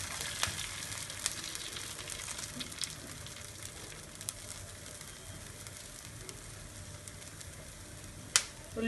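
Dosa batter for pesarattu sizzles on a hot pan. The frying hiss is faint and steady, broken by a few small pops and crackles, with no talking over it.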